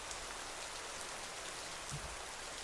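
Steady rain falls during a storm in dark, wet terrain, a dense continuous patter of drops on surfaces with a faint low rumble, and no voices.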